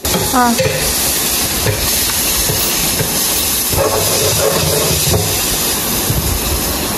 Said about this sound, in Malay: Okey, kita akan masak kari.